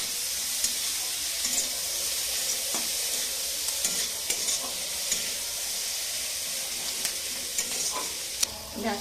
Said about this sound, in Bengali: লাল লাল করে ভেজে নেবো পেঁয়াজটা।